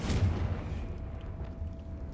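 The Confringo fire spell in Hogwarts Legacy lands with a single deep booming blast at the start, then a low rumbling tail fading over about two seconds.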